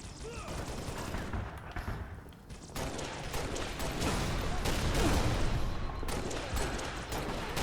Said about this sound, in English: And I keep shooting posts and pillars